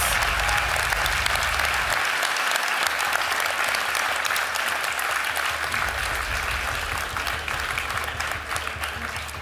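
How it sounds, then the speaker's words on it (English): Audience at a live pastry competition final applauding, sustained loud clapping from a large crowd that holds steady for about nine seconds and eases slightly toward the end. "Big round of applause."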